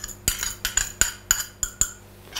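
A utensil knocks against a bowl while sardine, Bayonne ham, mustard, fromage blanc and breadcrumbs are mixed: about seven sharp, close clinks in an uneven rhythm, then a quieter pause, with no voices.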